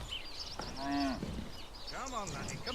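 An ox lows in the Manor Lords village game, a drawn-out deep moo followed by a second bellow, heard close over faint ambient birds and background game sounds.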